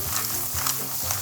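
Mussels hit a hot pan with softened onion and garlic, a loud, close, steady hiss of sizzling with a few stirring scrapes and bumps.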